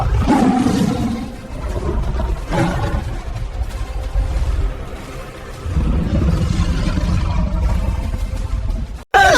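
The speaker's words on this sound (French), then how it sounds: "Le tigre de l'ombre se manifeste pleinement, avec un rugissement terrifiant." A shadow tiger from an animated Three Little Pigs treasure-hunt adventure lets out a loud, sustained, rumbling roar that swells in waves for several seconds before cutting off abruptly, then flaring again at the very end.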